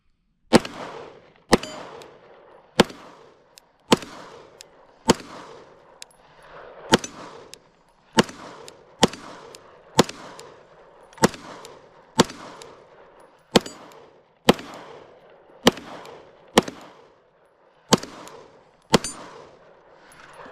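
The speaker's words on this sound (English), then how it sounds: "Now we're going to do the Glock 17. First time shooting." Glock 17 pistol shots at a shooting range ring out as sharp, loud single cracks, about sixteen of them at a steady pace of roughly one per second, each followed by a short echoing tail.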